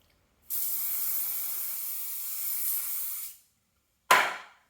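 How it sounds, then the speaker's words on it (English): A sustained hiss from a spray can of glue activator lasting about three seconds, followed after a pause by a short second burst. "spray the activator on first"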